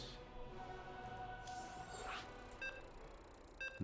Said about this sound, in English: You know what that beeping sound means.